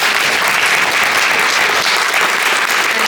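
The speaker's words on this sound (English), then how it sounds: "Let's have a big round of applause for Marsha first." Loud, dense audience applause at a writers' series event, continuous clapping from a close crowd lasting the full stretch.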